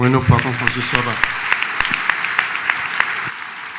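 A church congregation claps and applauds to acclaim the Lord, a brisk run of irregular claps that fades over a few seconds, with a voice speaking at the start.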